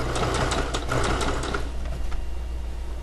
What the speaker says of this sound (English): You simply just sew straight down.